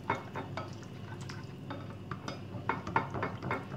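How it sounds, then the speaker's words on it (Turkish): Yogurt and oil whisked together in a bowl for soft, yeast-free poğaça dough, a steady run of light wet stirring and taps against the bowl, close and fairly quiet with no talk. "Öncelikle bu iki malzememi güzelce çırpıyorum."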